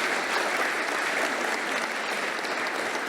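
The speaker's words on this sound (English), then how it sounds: "Would you join me in giving a round of applause to Mark?" A seminar audience claps for a panelist, a steady, dense wash of applause held at an even level throughout, close and full with no voices standing out.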